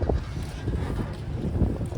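Strong Atlantic wind buffets the microphone aboard the Doolin ferry off the Irish coast, a loud, gusty low roar that rumbles and thumps unevenly throughout, with no talking.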